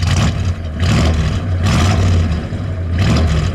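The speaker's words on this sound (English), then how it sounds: "The 343 Typhoon. Go ahead, give it a rev, Bob." A 1967 AMC Marlin's 343 Typhoon V8 revs loudly up close, three strong throttle blips swelling and dropping back over a deep, rumbling idle.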